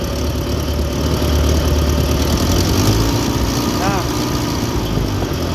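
Engine run up to higher RPM during a conventional charging system test, a steady idling hum that rises slightly in the middle, with a voice talking over it.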